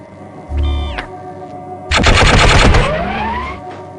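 Rapid-fire gunshots in the video game Gunman Chronicles come as a short automatic burst followed by a longer, louder stream of shots, both close and punchy, with a rising mechanical whine trailing off afterward.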